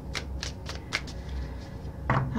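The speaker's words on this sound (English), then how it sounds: "let's give him a good shuffle" A deck of tarot cards riffles and slides in a quick run of close, papery shuffles, then ends in a firmer flutter as the cards come together.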